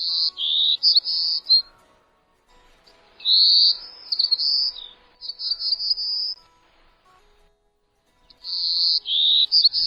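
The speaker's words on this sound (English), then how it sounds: "today's featured feathered friend, Setophaca chrysoparia, the beautiful and endangered golden-cheeked warbler" An endangered golden-cheeked warbler, Setophaga chrysoparia, sings thin, high, buzzy phrases, about five separate bursts broken by silent gaps, clear and close with no voices.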